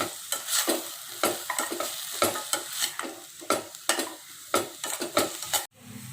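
Cashews with five or six raisins sautéed in a pan for paneer butter masala, a steady sizzle under repeated close scraping strokes of a spoon against the pan, with a brief pause near the end.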